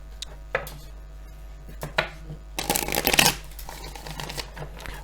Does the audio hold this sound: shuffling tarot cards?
yes